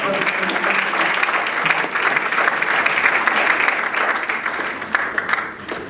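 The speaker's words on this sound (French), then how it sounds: "Est-ce que vous pouvez applaudir pour tout le monde?" A live audience at a motivational conference applauds steadily for several seconds, dense and sustained clapping that fills the room without pause.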